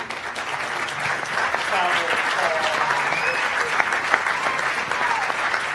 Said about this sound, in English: I just would love to just offer a big applause to everybody.